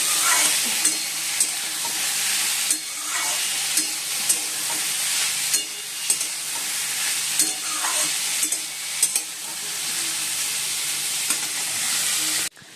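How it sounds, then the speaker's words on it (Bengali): Eggs fry in a pan with a continuous close hiss and sizzle, broken by regular sharp scrapes and taps as they are stirred. No one speaks. "ডিমগুলো ভেজে নিচ্ছি"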